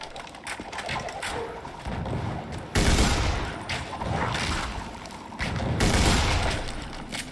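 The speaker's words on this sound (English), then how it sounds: "Throwing grenade" Grenade blasts and gunfire in Tiny Tina's Wonderlands, rapid shooting leading into a loud booming explosion, then more heavy bursts and a second big blast, with no talking.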